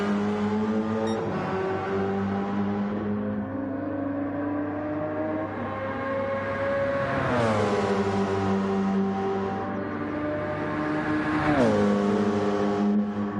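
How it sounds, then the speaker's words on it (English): A Porsche Hybrid race car, run by Penske in Gran Turismo 7, revs steadily as it warms its tyres. A loud, continuous engine whine rises and falls through the gears, with no talk over it. "Just enjoying the sounds of the Porsche, ladies and gentlemen, as MJ tries to warm up his tyres"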